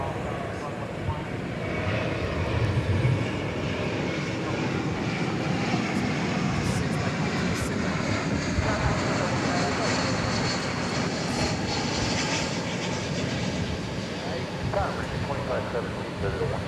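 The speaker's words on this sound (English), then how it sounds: "we got Airbus A321 coming in from Phoenix, Arizona, American Airlines. Our next arrival on Runway DFW." An American Airlines Airbus A321 jet arriving at DFW airport on a hot day, its broad, steady engine roar sustained and fairly loud throughout, with a faint voice talking underneath.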